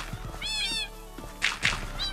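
A Minecraft cat meows several times in short, high, wavering calls, close and clear, with a little background game noise.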